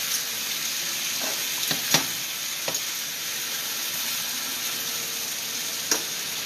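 Turkey breasts fry in hot oil in a pan, giving a steady, close sizzle with a few brief clinks and taps of a utensil against the pan.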